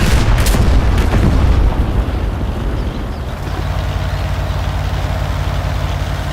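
An artillery shell explodes in World of Tanks: a loud, heavy boom with rumbling debris fills the first two seconds, then fades into a steady low engine idle.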